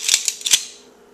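A metal Freddy razor glove is pulled on over a silicone glove, giving a few quick, bright metallic clicks and scrapes of the blades close by, then a fading ring.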